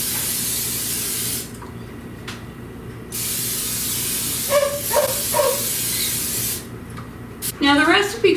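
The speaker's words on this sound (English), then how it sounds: "I'm going to take a 9x13 pan and I'm going to spray it with some non-stick spray." Non-stick cooking spray hisses from an aerosol can into a 9x13 baking pan in several close, loud bursts, each a few seconds long, with a person talking briefly between them.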